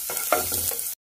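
Lightly chopped garlic cloves hit hot oil in a pan and give a short, bright burst of sizzling and crackling with some stirring, heard close up for about a second before it cuts off.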